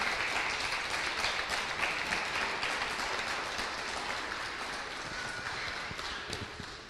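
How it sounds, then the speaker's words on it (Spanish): Church congregation applauding during a Spanish-language sermon, a continuous wash of clapping from many hands in a large room, steady and moderately loud, with no talk over it. "Podemos darle un aplauso a nuestro Señor Jesucristo."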